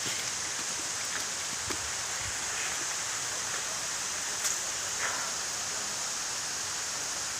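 Steady, soft hiss of light rain falling continuously, with a few faint scattered drips and no voices.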